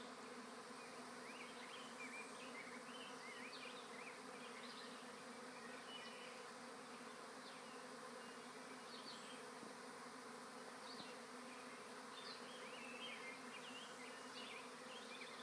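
A honeybee swarm moving into a hive outdoors, heard as a steady, dense buzzing hum with individual bees zipping close past, continuous throughout.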